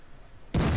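A tank cannon fires in World of Tanks, driving an E75 heavy tank: a sudden loud, broadband boom bursts in after a quiet stretch and holds to the end.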